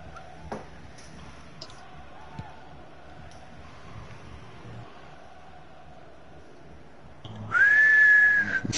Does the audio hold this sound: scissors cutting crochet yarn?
no